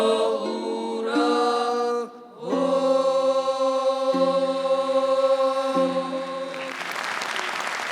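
Children's voices sing a Georgian folk song in sustained harmony at a concert, then audience applause bursts out near the end as a rising wash of clapping.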